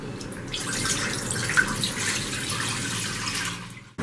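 Whole milk poured into a pressure cooker, a steady close liquid gurgle and splash lasting a few seconds, then stopping abruptly.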